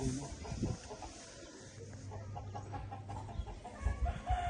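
Roosters crowing on a village farm in Punjab, a drawn-out crow rising over soft clucking and background farmyard noise, at moderate distance and fairly faint.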